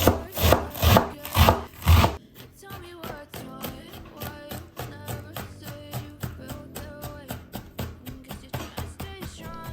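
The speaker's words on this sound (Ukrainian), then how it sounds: "Айсберг ріжемо, як звичайну капусту" A knife slicing iceberg lettuce on a board in a home kitchen, cut like ordinary cabbage: a few loud crunchy chops first, then a long run of quicker, lighter rhythmic cuts close by, with no talking.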